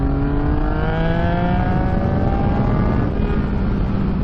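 A Yamaha MT-09 motorcycle engine revs hard at high RPM, around 7,000, giving a loud, steady, close-up roar with rising harmonic tones and no voices over it.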